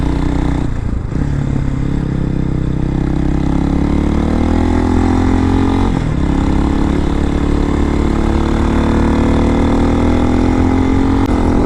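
A 2023 Hawk-X 250 motorcycle engine idles steadily and loudly up close, a continuous low rumble that slowly climbs in pitch, with no voices.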